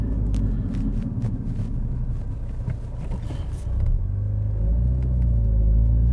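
2016–2018 Ford Focus RS with a stage 2 rear motor mount, its engine rumbling near idle and then lifting a little in a light rev, a continuous close low drone with no talk over it.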